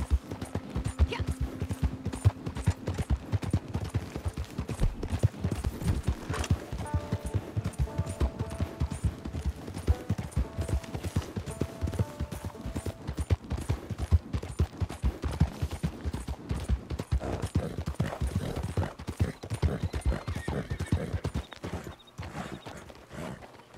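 Horse hooves clip-clop steadily as a horse pulls a wagon in Red Dead Redemption 2, a continuous close, even rhythm of hoofbeats and wagon rumble with no talking.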